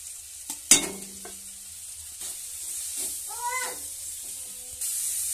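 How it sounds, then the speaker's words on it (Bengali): Ginger paste with chili and turmeric powder being sautéed in a pan, a soft steady sizzle with a sharp utensil clack near the start and a few scraping stirs, plus a brief cat-like cry in the middle. "আদা বাটা দিয়ে এবার ভালো করে কষে নিচ্ছি।"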